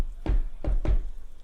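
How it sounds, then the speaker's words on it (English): A secret knock raps on a door in three heavy, close thumps, one followed after a pause by two quicker ones, with no talk over it. "It's the Terminator knock."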